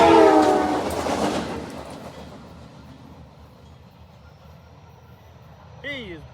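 A CSX light power move of locomotives passes at speed, its loud rumble and rail noise fading away from the start, with a brief horn-like tone near the end.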